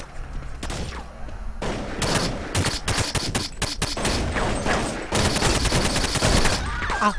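Dense gunfire fills the Counter Xtreme video game, with rapid overlapping shots in loud, close bursts that run almost without pause over a constant background of game noise.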